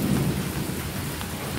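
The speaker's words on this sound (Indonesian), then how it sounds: "Parah hujannya." Heavy rain pours steadily over a giant 12-metre domed aviary, making a dense, loud, continuous hiss with no pauses and no voices.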